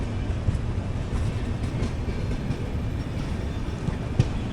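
The Secunderabad–Guntur Golconda Express passes with a steady low rumble of wheels and carriages, a continuous rolling roar with faint clicks, heard fairly close and without talk.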